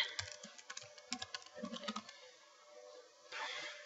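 Rapid bursts of typing on a computer keyboard while entering spreadsheet text, close and clear, with uneven clusters of keystrokes and a brief pause before a softer rustle at the end.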